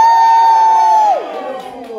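Audience at a comedy headline set in Dartmouth cheering and whooping loudly at a call for Northerners, a mass of voices that starts strong and then thins out as the cheer trails off.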